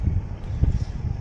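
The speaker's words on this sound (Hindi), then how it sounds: "ठंडी ठंडी हवा चल रही है" Cool evening wind blows across a rooftop, a steady low rushing buffet against the microphone with no voices.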